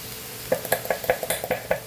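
Spice masala being stirred into green chillies frying in a pan for a Kathiyawadi stuffed chilli curry: about seven close, rhythmic scraping strokes over a soft sizzle, with no voices.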